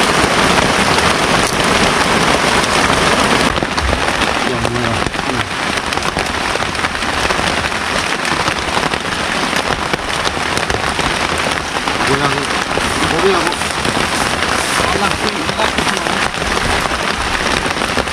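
Heavy rainstorm pours down steadily in a forest on a ridge, a dense, loud hiss of rain drumming on surfaces that runs unbroken throughout, with faint low rumbles beneath.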